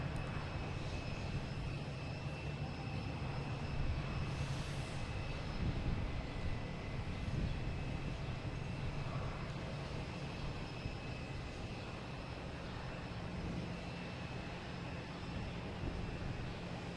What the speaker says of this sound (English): Probably waiting for the American Airlines, the 777 coming in right now before they take off.